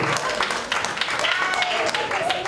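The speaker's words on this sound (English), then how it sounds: "Round of applause." Comedy pub audience applauds in a short burst of clapping, moderately loud and steady.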